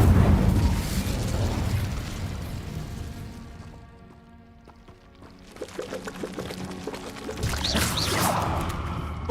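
An Incendio fire spell cast in Hogwarts Legacy gives a loud, rushing, whooshing burst of flame, which fades into a quieter lull before a second roaring surge of fire.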